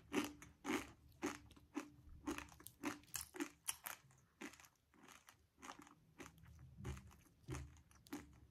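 Crunchy raw Korean instant ramen, spicy rice cake seasoned, bitten and chewed up close, with sharp crisp crunches in an irregular rhythm and softer chewing between, no talking.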